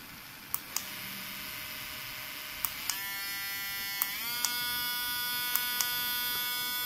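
A Relife RL-068 polish pen's small motor whines steadily at high speed, its tone stepping up as the speed is raised, with sharp button clicks along the way; fairly quiet and close, no talking.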